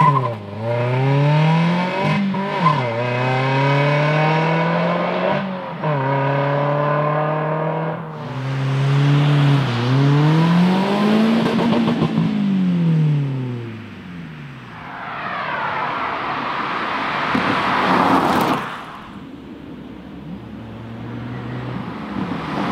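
A Toyota Yaris GRMN hatchback with a 1.8-litre petrol engine and six-speed manual gearbox on a race track, loud and close, revving hard through repeated upshifts with rising and falling engine pitch, then a higher-pitched whine near the end.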